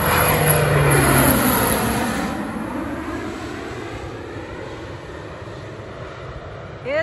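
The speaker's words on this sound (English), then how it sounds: "would you like to fly one of those crop dusters?" A propeller crop duster airplane passes overhead with a loud droning engine roar that peaks early and then slowly fades as it moves away, heard outdoors.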